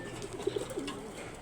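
Pigeons, kept as racing birds, give a few soft low coos close by against a faint background hum.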